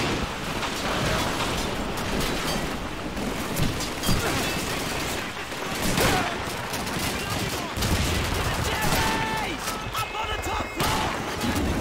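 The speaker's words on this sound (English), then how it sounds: "Careful, lads! There's an MG42 at the end of this road!" MG42 machine gun in a Call of Duty 2 battle, loud dense bursts of rapid automatic fire mixed with other gunshots and blasts, continuous chaotic combat noise throughout.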